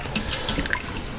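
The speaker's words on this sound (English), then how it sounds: "I'm going to ladle out some of that juice, or au jus" Hot beef juice from a pressure cooker pot roast is ladled and drips, producing soft close splashes and trickles with small drops.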